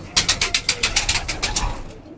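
Pigeons kept in a loft coo in a rapid run of about a dozen soft pulsing notes, close and clear, fading out at the end with no talk.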